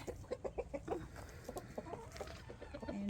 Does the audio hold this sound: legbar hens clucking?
yes